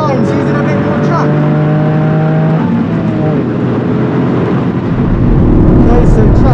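A Toyota GR Yaris driven hard on a race track with traction control off, engine note rising and shifting through gears from inside the cabin, loud and continuous with steady road and wind roar.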